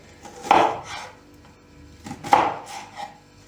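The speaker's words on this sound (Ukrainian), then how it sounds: "Цибулю для цього салату ми беремо одну велику і будемо нарізати її соломо" A kitchen knife chops through a large onion on a cutting board, cutting it into strips: two firm, close thuds about two seconds apart, each with a short trailing scrape, and no talking.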